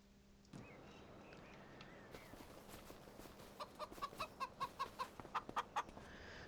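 Chickens cluck in a video game in a quick series of short, close calls that grow busier toward the end, with no talking.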